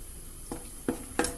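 A spoon stirs cabbage swallow cooking in a pot, making three faint, soft scraping strokes spaced apart over a quiet background hiss.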